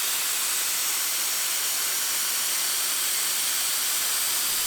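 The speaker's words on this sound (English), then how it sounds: "Oh no, primer leaking, not good." Primer spray leaking from a spray can or spray gun during priming of a Mazda Miata restoration, a steady, continuous broadband hiss at close range with no talk.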